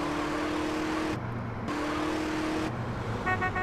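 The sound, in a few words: car engine driving in video game GTA San Andreas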